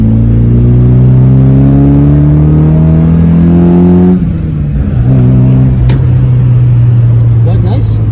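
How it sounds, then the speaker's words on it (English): Exhaust of a Toyota Corolla 160i GLS on the move, a steady deep engine drone that rises in pitch, drops after a gear change and climbs again, loud and close inside the car. "So now, yeah, that's the exhaust sound."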